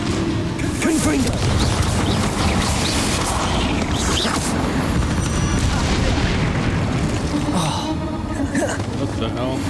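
Confringo explosive spell blasts in the Hogwarts Legacy video game: loud booming impacts and crashes in dense succession amid battle noise, with a voice talking over them.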